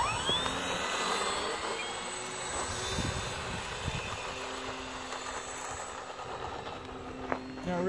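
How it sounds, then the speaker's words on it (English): A model airplane flies over the Sonoran desert, its small engine giving a continuous high whine that drifts in pitch as it passes, with faint voices in the background. "The trick, Rick, is to find out now who's flying what plane."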